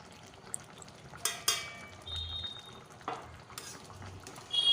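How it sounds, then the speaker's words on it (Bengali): Pre-fried spice mix is stirred into a pumpkin curry with a spoon scraping and clinking against the pot, soft sizzling under the scattered knocks of stirring. "মশলাটা ভালো করে তরকারির সাথে মিশিয়ে নেব।"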